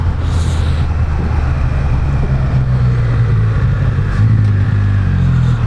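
A Can-Am Spyder F3 S three-wheeler engine pulls hard, its loud, rough drone holding steady close by, then the pitch steps down as the transmission downshifts automatically, with wind noise over it.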